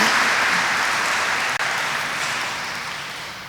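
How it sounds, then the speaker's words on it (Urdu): Loud, dense applause from a congregation at a priestly ordination, sustained and steady with a momentary dip midway, then slowly fading toward the end. "ہم آپ سب کو بھی فاجی مبارکباد پیش کرتے ہیں زوردار تالیوں کے ساتھ"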